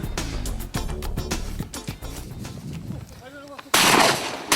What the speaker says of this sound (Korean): 이 조용한 마을에 울리는 총성.